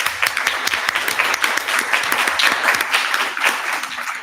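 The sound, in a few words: audience applause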